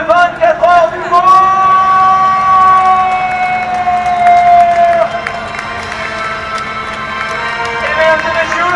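Crowd cheering and applause at the 24 Hours of Le Mans 2016 LMP1 podium celebration for Porsche's win, a loud sustained roar with whoops, under an announcer's voice and music.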